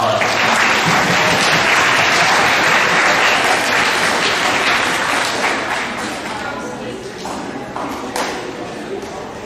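An awards assembly crowd at a middle school claps loudly and densely, the applause gradually thinning and fading toward the end, with faint voices mixed in.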